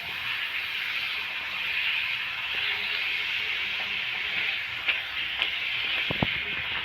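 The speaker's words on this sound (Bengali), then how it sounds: "অল্প একটু তেল দিয়ে ভেজে নেব।" A steady broad hiss of peas-filled kachori frying in a little oil in a pan, constant and close, with a few faint clicks near the end.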